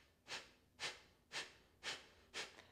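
Five forceful, evenly spaced nasal exhalations from a yoga pumping breath exercise, each a short rushing puff followed by a pause, close and clear with no talking.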